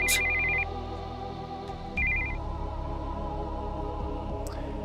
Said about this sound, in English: we heard the sound of an incoming call on the cell phone.